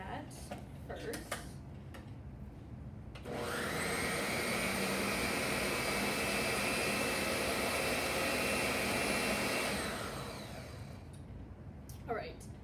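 A kitchen blender running on low to mix two ingredients gives a steady whirring drone with a faint whine. It starts abruptly, runs for about seven seconds, then winds down between quieter handling noises.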